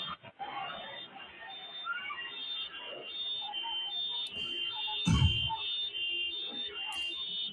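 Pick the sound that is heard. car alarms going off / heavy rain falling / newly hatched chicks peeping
car alarms going off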